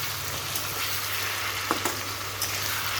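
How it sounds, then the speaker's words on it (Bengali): A spice paste of ground onion, garlic and chili sizzles and fries in a pan, a constant hiss broken by a few soft scraping stirs, heard up close with no voices. "একটু আরও কষিয়ে নিতে হবে।"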